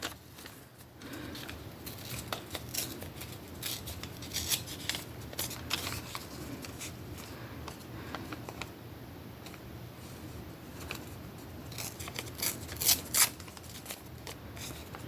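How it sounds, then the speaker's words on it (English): Scissors snipping paper while trimming inserts for a B6 Stalogy planner setup, a string of quick crisp cuts and light paper rustles close up, with no talking. "Just cut it down just a little bit."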